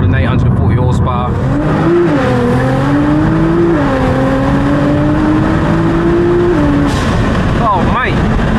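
A loud, tuned forged-engine Nissan R35 GT-R, Stage 5 with 840 horsepower, revving hard and holding a high, droning pitch, with rising and falling sweeps and a closing burble.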